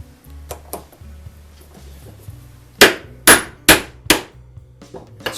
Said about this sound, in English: And strike the punch.